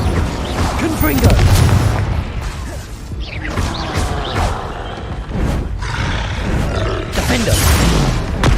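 Heavy booming blasts and crashing impacts from an explosive Confringo spell in Hogwarts Legacy, loud and dense, rolling over one another with roaring rumbles while a voice speaks over the noise.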